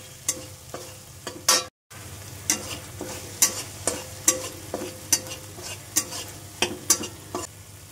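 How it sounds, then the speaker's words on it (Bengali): Spice paste with green chillies frying in a pan, a low sizzle under a series of regular scraping stirs, with one brief cut-out of sound early on. "মশলাটাকে একটু কষিয়ে নিচ্ছি, আর একটু কাঁচা লঙ্কা দিয়ে দিলাম।"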